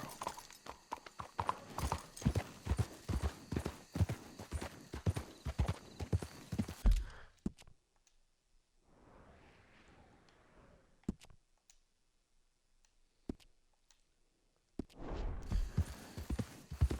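Horse hooves clip-clopping while riding in Red Dead Redemption 2, a close, rapid, steady beat that stops for a quiet stretch with faint rustling, then resumes loudly.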